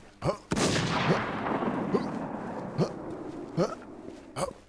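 Gunfire in the online shooter game Warz PvP, with one loud blast followed by a booming, echoing decay and several further sharp shots, while a voice speaks briefly between them.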